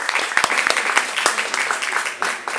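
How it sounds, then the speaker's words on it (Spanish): An audience applauds for the sound technician at a gathering, a short, lively burst of close clapping with sharp individual claps standing out, lasting a couple of seconds. "un fuerte aplauso,"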